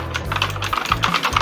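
Fingers tap quickly on a computer keyboard while entering text in a design program, a close, rapid run of light clicks with an uneven rhythm and no talking.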